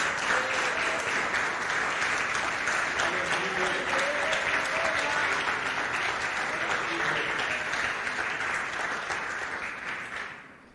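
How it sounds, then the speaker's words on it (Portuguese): A church congregation at a special Thursday service breaks into sustained applause, a dense, steady wash of many hands clapping together that holds for about ten seconds before tapering off near the end. "Você pode aplaudir Jesus por essa bendita e poderosa palavra,"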